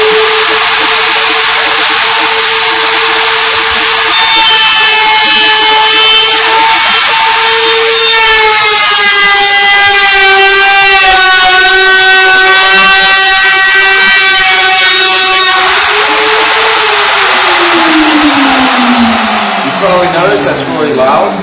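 A router flush-trimming a cabinet face frame screams loudly and close, a sustained high whine that shifts pitch as the cut loads and eases, then winds down near the end.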